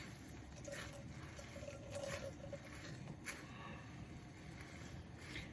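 Grated zucchini wrung out in a tea towel for fritters, giving a soft, close, continuous wet patter and trickle of water seeping through cloth for several seconds.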